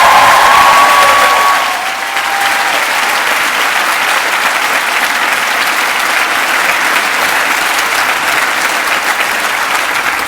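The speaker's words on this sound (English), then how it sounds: "I would like, if we could have a big round of applause for the people who have actually made this event physically possible." Graduation ceremony audience applauding, a loud, sustained wash of clapping from a large crowd that starts strong and holds steady throughout, with a faint brief tone near the start.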